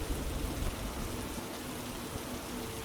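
Steady rain falls, a faint continuous hiss and patter, with no distinct thunderclap standing out in the short stretch.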